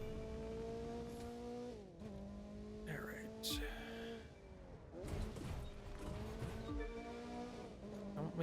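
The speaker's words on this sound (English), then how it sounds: "Make it sound like there's a car next to me when it's just my own car." A car engine in The Crew 2 racing game climbs and shifts through gears under steady throttle, with brief tire squeals and bursts between shifts, at moderate level and no speech.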